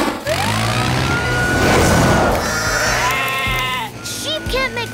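Cartoon sheep bleating in a busy animated scene, several wavering bleats layered over siren-like tones, music and effects, with characters talking underneath.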